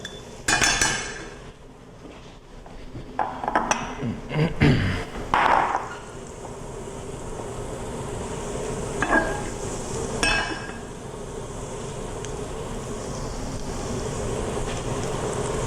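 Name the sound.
garlic sautéing in a pan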